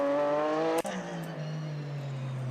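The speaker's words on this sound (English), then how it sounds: "Nice chirpy downshift sounds." A car engine drops sharply in revs at a downshift, its steady harmonic note giving way to a chirpy blip and a lower, rumbling tone with faint transmission whine, close and loud, no talk.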